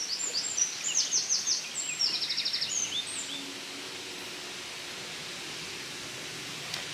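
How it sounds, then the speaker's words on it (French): Birds sing in open fields along a coastal walk, with quick high chirps and trills over the first few seconds, then steady wind-like hiss alone. "Écoutez un peu les oiseaux."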